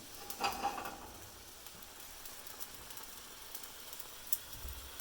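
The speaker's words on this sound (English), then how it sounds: "This whole time these bacon steaks are just kind of simmering away" Bacon steaks simmering in olive oil in a pan over medium heat give a faint, steady sizzle, with a brief clink near the start and light stirring noises.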